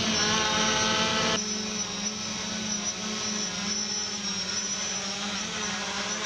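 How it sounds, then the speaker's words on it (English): A Potensic drone taking off, its steady high-pitched rotor whine droning close and loud, with a slight shift in pitch as it lifts, no talk over it. "This is a Potensic drone. And now it will take off."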